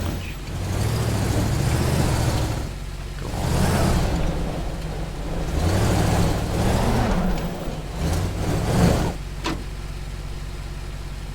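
A car engine driving in the video game Teardown, its low rumble rising and falling in a few surges as the car pulls away and slows, with brief gaps between runs, a short spoken phrase, and a sharp knock near the end.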